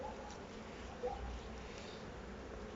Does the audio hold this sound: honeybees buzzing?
yes